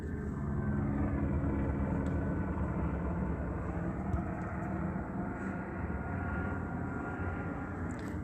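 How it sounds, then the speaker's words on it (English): A helicopter flies over a parked vehicle in California at around 1 a.m., a steady loud rumbling drone that stays constant throughout, with no talking. "flying directly over this vehicle that I'm sleeping in, flying over by helicopter"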